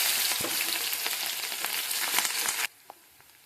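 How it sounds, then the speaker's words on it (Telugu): Onion pieces and green chillies sizzle loudly in hot tempering oil with cumin and mustard seeds, a dense steady frying crackle with small pops that cuts off abruptly near the end, leaving faint quiet. "తాలింపు గింజలు వేసుకున్నాం, జీలకర్ర, ఆవాలు. ఇప్పుడు ఉల్లిపాయ ముక్కలు, పచ్చిమిర్చి,"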